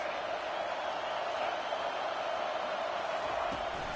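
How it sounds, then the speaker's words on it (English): A stadium crowd at a South Carolina football game roars as a steady, dense wash of noise that holds even and loud the whole time, with no clear voice rising above it. "This crowd trying to make life miserable for this offense."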